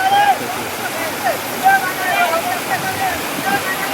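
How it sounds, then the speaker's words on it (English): The Ganda Hati waterfall roars as a steady, loud wash of rushing water, with brief splashes and faint voices mixed into the constant broadband flow. "Look at the speed of this water flow."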